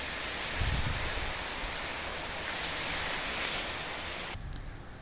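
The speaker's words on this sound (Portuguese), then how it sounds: "tá chovendo muito aqui" Heavy rain falling outside, a steady broadband hiss of downpour heard from indoors behind glass, constant throughout and dropping in level near the end.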